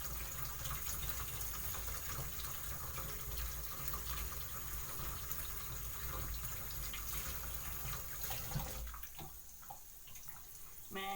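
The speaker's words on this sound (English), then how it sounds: "Now I'm trying to wash them." Stew ingredients rinsed under a running tap, a steady close broadband water rush throughout, with a few clattering handling sounds near the end.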